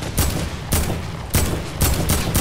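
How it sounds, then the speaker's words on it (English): Gunfire in the video game Fortnite during an aerial fight: loud bursts of shots crack out in an irregular run of about five volleys, close and unvoiced. "we're getting sniped out"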